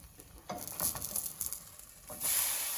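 Banana-based vegan French toast frying in a pan, a soft steady sizzle with a few brief stirring or scraping movements and a louder crackling swell near the end, heard close up without talk.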